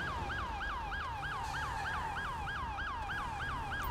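Police car siren from the GTA 5 video game with the LSPDFR highway patrol mod, wailing in a steady rapid yelp cycle, loud and continuous with no voices over it.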